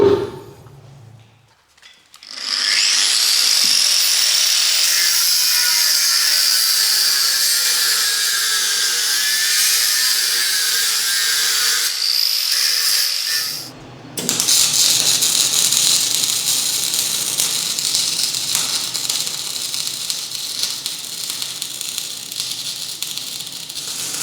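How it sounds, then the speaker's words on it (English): Steady buzzing crackle of welding on cracked parts of a Deutz 6006 tractor, loud and continuous for about ten seconds, a brief pause, then a second longer run of welding noise; no talking. "I'm gonna go and just weld up these parts that cracked right away"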